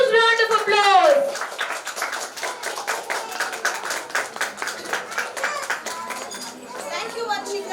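Applause at a kindergarten fancy dress competition: a crowd claps in a steady patter for several seconds, with a voice speaking over it at the start and children's chatter in the background.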